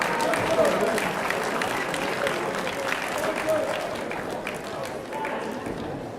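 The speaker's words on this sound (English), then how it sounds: "Give these guys a big round of applause" Crowd at a spring open grappling superfights event applauding the fighters, a steady wash of clapping and cheering that holds at full level throughout, with voices mixed in.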